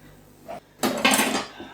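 Riced potato is mixed with butter, salt and pepper in a bowl, a short burst of utensil scraping and clinking against the dish after a brief tap, close and fairly loud.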